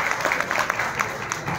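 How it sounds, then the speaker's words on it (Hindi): Audience clapping at a song launch event, a steady spread of hand claps filling the short stretch at moderate, slightly distant level with a faint crowd murmur beneath. "आप उनके लिए भी तालियां बजा दीजिए।"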